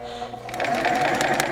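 Bernina 530 sewing machine stitching fabric up close, starting after a brief pause into a fast, steady run of rhythmic needle clatter.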